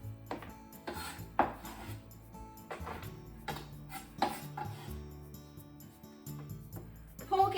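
Sliced ginger being placed into a food container in a home kitchen, with scattered clatters and clinks of dishes and utensils at uneven intervals, moderately close and fairly quiet.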